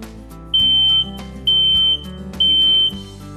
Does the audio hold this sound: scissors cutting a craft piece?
no